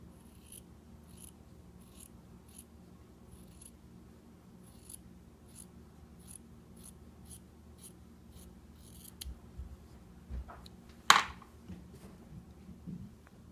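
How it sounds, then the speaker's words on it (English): Scissors snip fabric seam allowance on a sewn face mask in a quiet room, a steady run of small, faint, close cuts followed by a louder rustle near the end. "I usually just trim about half of that seam allowance off"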